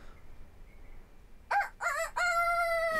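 A rooster crows in the video game Edna bricht aus, with a single loud, close crow that breaks out of near silence in several rising bursts and ends in a long held final note.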